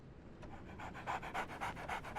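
A dog pants in quick, rhythmic breaths in the video game Sherlock Holmes: The Awakened, a series of soft, airy puffs that grow a little louder near the end, close up and alone.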